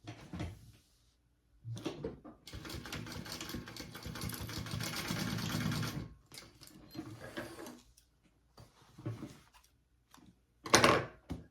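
A sewing machine basting fabric onto a baby sling runs in short and longer bursts, with one sustained run in the middle, separated by quiet pauses and small handling clicks.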